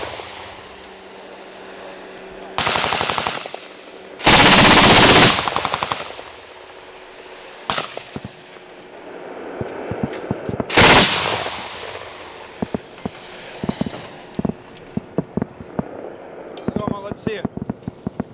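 Machine gun firing short bursts in a combat setting, with loud close rapid volleys separated by pauses, plus scattered sharp clicks and metallic clinks between bursts.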